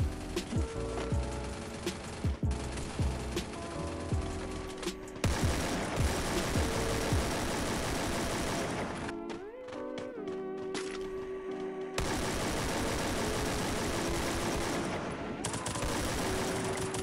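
AK assault rifle fire in the Free Fire video game, loud rapid bursts of automatic shots with brief pauses between volleys and game music underneath.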